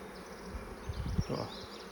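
Honeybees droning inside an open hive during an east-hive inspection, a soft continuous insect buzz with a few louder swells, close and steady for two seconds.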